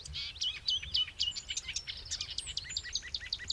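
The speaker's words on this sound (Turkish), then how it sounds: "Bir araya toplanmış büyük akbalıkçılar." Great white egrets gathered in a flock, heard as a dense run of high, repeated chirping calls overlapping throughout, moderately close and continuous with no talking.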